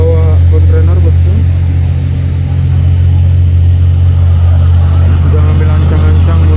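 A loaded container trailer truck starts up a steep hill at Bukit Kodok, its big engine laboring in a loud, steady low rumble close by, straining continuously under the heavy load.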